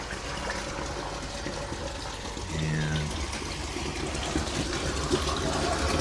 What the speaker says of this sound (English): let's take a look at where all this water goes